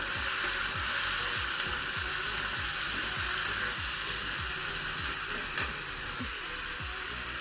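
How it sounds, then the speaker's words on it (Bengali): Bitter gourd, potatoes and tomatoes hit hot oil with garlic and ginger for a Bengali rui fish curry, a loud, dense, continuous sizzle with rhythmic stirring strokes and a single clink near the end. "এখন দিয়ে দেব করলা, আলু, টমেটো সবগুলো আমি একসঙ্গে দিয়ে দেব।"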